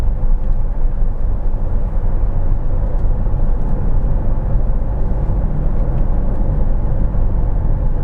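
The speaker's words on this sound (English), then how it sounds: "one of the things we like to do here out on the highway is drive at 55, and we will do our sound meter test" Steady broadband road and engine rumble inside a 2020 Lexus NX 300 F Sport cruising on the highway at about 55 mph on 18-inch wheels, a constant low drone with no talk.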